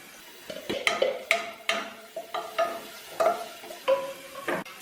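Spices with turmeric and coriander powder are sautéed in a pan for a Kerala fish molee, with a series of distinct scraping stir strokes and clinks against a soft sizzle, no talking.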